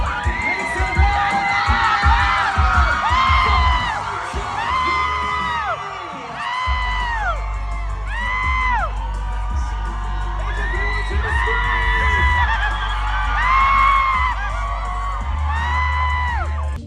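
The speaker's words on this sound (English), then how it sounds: "When I tell you, the crowd went wild." A crowd at Disneyland's Disney Channel Nite cheers wildly, full of high-pitched children's shrieks and whoops that rise and fall in overlapping bursts over a steady low rumble.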